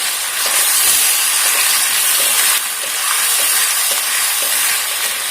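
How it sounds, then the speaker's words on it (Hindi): Ginger garlic paste sautéing in hot oil with lightly cooked onions for a chicken white karahi, a loud, close, steady sizzle and hiss with faint stirring scrapes throughout. "फिर इसमें शामिल करेंगे अदरक लहसुन का पेस्ट"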